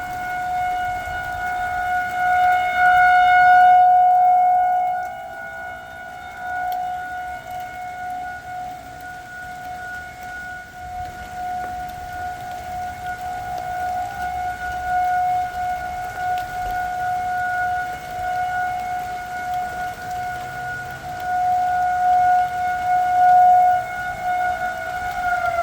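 A long, steady wail of tornado sirens during a rainstorm drones on from a distance, holding a sustained tone with faint background rumble.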